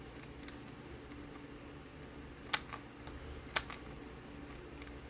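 A prototype Diansheng FTO puzzle is turned, giving a few faint plastic clicks and two sharper snaps a second apart over a steady background hiss.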